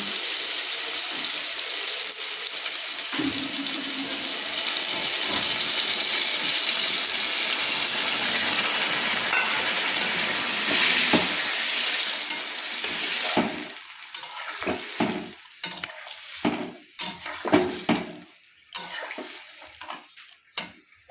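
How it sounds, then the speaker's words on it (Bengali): Water poured into a sizzling pan of well-browned masala for a cabbage and egg curry, a steady broadband hiss and sizzle that settles into intermittent stirring scrapes and splashes toward the end, close and with no talking. "এবার এতে আমি জলটা দিয়ে দিচ্ছি"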